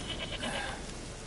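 A single wavering goat bleat from The Witcher 3, fairly close and clear over a hissing ambient background, lasting about half a second before fading.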